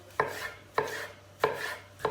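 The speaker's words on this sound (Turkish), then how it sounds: "İnce bir şekilde doğruyoruz." Onions are finely chopped with a knife on a board, four crisp, evenly spaced chops heard up close with no talking.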